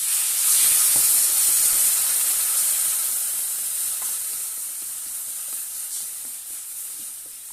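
Water poured into a hot pan of fish curry with bottle gourd, salt, turmeric and green chillies sets off a bright, steady steam hiss and sizzle that slowly fades, close and with no talking.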